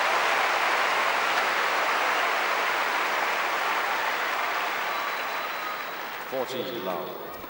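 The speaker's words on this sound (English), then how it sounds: "Some people applaud and some just stare in amazement." Tennis crowd at the 1989 Australian Open quarterfinal between Martina Navratilova and Helena Sukova applauding, a steady dense wash of clapping that slowly fades, with a commentator's voice breaking in near the end.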